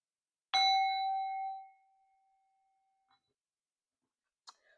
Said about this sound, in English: I just decided to ring the sound bowl